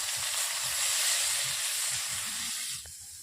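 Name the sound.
chopped onion frying in oil with cumin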